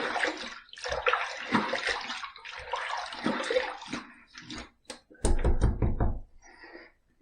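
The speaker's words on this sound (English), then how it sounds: "let me just wet the face a little bit" Water splashed onto the face by hand at a sink before shaving with a safety razor: close, irregular wet splashes and drips, building into a louder burst of splashing near the end.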